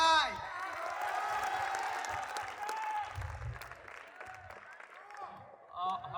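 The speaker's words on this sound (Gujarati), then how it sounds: "હવે તાળીઓ પાડી નાખો જોરદાર ભાઈ." An audience at a 2024 annual school-style function breaks into sustained applause with some cheering, a steady crowd roar of clapping that thins out toward the end.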